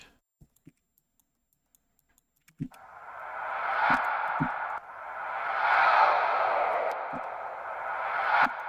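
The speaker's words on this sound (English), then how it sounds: "And let's give it some reverb." After a few quiet clicks, a washy synthetic deathstep sound, stretched and given reverb, swells in with a long reverberant tail, repeating with soft taps scattered through it.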